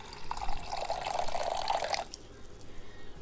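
Water is poured from a cup into a pot of lentils with turmeric, giving about two seconds of close splashing and trickling before it stops abruptly, with no talk.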